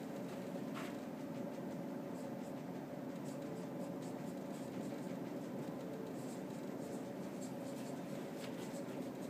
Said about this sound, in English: Now I'm going to write here